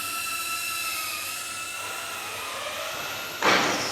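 A small Tinyhawk 3 FPV drone flies nearby, its tiny motors giving a steady high-pitched whining buzz that rises into a sharper burst near the end, with no voices.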